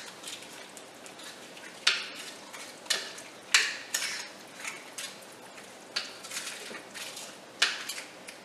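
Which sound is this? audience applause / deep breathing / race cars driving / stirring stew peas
stirring stew peas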